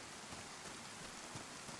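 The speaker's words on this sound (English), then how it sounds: "the rain will actually muffle my footsteps and do me a right favour" Rain falls in the video game DayZ as a soft, even patter of drops. It is quiet and unbroken across the whole moment, with no voices.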